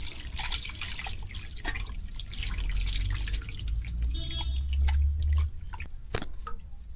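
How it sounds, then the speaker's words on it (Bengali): Chhena being rinsed with water inside a cotton cloth over a saucepan, a steady close trickle and dripping of water with occasional louder splashes, no talking. "এটা জল দিয়ে খুব ভালো করে ধুইলাম"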